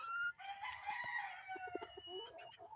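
Chickens, including a gold hatch pullet hen, cluck and call nearby in a soft barnyard chorus, with a drawn-out crow-like call and a string of short clucks, faint overall and free of speech.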